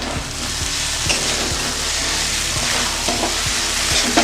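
Taro stolons frying with a little sugar in a pan give a steady, close sizzle under repeated scraping stirs of a utensil, a few strokes each second, with no talking.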